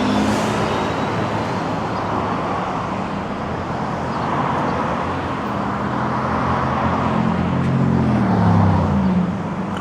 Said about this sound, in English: Crazy traffic here.